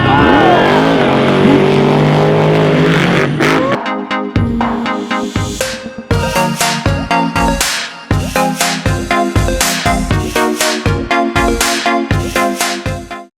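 Monster truck engines at a rally roar loudly and steadily for a few seconds, then give way to a run of sharp, choppy bursts in quick succession, with some voices mixed in.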